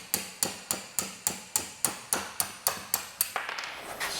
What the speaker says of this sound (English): there should be no reason for me to be hammering that out, really